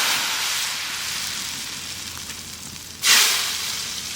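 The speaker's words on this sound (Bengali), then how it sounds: "ডালে ফোড়ন দেবো সর্ষের তেল, তেজপাতা, 5 ফোড়ন।" Bay leaves and Bengali five-spice tempering sizzling in hot mustard oil for dal, a steady loud frying hiss with a sharp flare of sizzle near the end, no talk.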